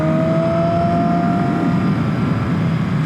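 Yamaha Maxim 700 four-cylinder motorcycle at speed, a loud steady engine drone with a rising whine sustained throughout, close and continuous with wind rush.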